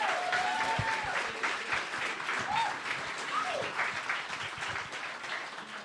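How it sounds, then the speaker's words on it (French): Audience applause for the kitchen and service staff at a Femmes en Sciences event, a dense, sustained round of clapping from a crowd that fills the whole stretch, with voices faintly mixed in underneath. "S'il vous plaît, on les applaudit."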